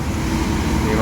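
An ANS bus rolls past on a smoky morning road in Palembang, a steady, dense engine and traffic rumble filling the whole second with no clear rise or fall.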